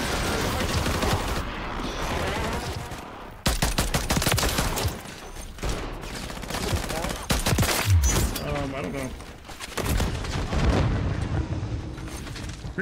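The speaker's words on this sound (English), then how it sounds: "Oh, there's an airstrike." An airstrike in Call of Duty: Modern Warfare III unleashes a relentless, chaotic barrage of explosions and rattling gunfire, loud and continuous with brief dips between heavy bursts.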